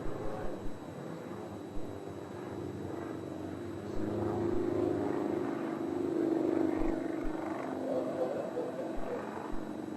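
At the Farnborough air show, an aircraft flies a slow display under 100 knots, hovering almost like a helicopter. Its engine drones on as a distant, swelling rumble, with a commentator's voice heard intermittently over it.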